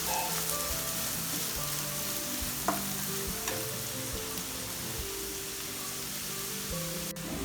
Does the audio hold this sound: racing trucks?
no